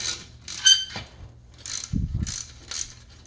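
A wrench ratchets on a bolt of a 1991 Toyota MR2 brake pedal bracket in short clicking bursts, with a dull metallic clunk midway, close and without talk.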